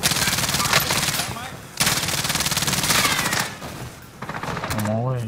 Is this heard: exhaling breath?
no